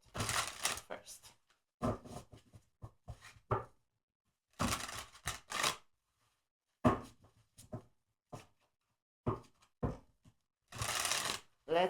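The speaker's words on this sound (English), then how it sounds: "Just want to shuffle a bit" Tarot cards being shuffled by hand in a few loud, close bursts of papery riffling, separated by short quiet gaps and scattered lighter taps and slides of the deck.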